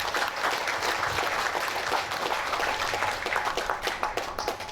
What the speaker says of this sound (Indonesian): Jadi tepuk tangan buat Madas Nusantara.